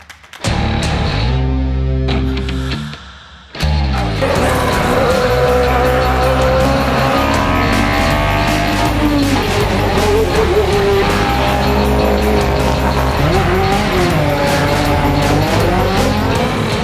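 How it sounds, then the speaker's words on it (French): Loud race car engines roar and whine continuously on a mountain road at around 200 km/h, with a brief dip early on before the revving resumes at full volume. "Ça fait beaucoup de bruit, il y a des voitures incroyables"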